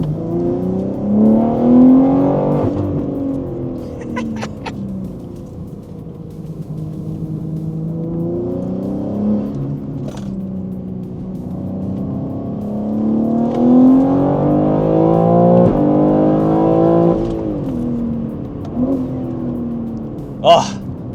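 A BMW G80 fitted with a DCE equal length midpipe revs repeatedly, each blip rising sharply then falling back to idle, with several loud throttle swells over a steady burbling idle; a few brief clicks sit between revs.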